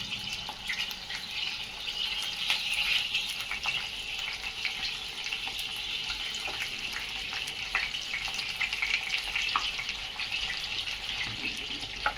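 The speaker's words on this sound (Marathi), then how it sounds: "त्याच तेलामध्ये आपल्याला वांगी सोडून घ्यायची आहेत" Masala-stuffed eggplants frying in hot oil give off a steady, fairly soft hiss with faint scattered crackles, continuous and without talk.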